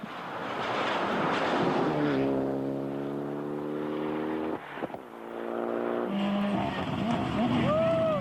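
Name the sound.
rally car driving to the finish, Albania Rally 1999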